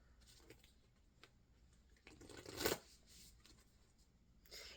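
A Moonology oracle card deck is shuffled by hand in a quiet room, with soft scattered riffles and taps and one louder, brief burst of card shuffling midway.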